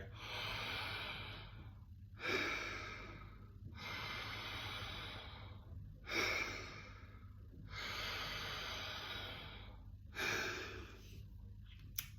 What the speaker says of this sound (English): do mouth breathing through a nice, relaxed, open mouth